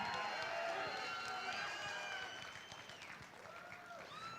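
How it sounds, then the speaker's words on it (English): A crowd at a boxing bout applauds the fighters between rounds, a dense wash of clapping and cheering that starts loud and slowly fades, with whistles and calls rising above it. "Let's give these warriors a round of applause."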